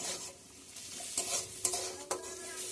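Pasta being stirred in a pan with onions and pasta masala, a steady sizzle of frying under soft scraping strokes and a couple of sharper utensil knocks; no talking.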